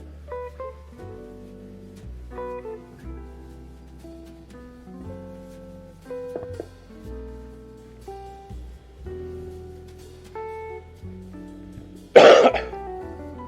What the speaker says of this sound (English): Excuse my cough, I apologize for that.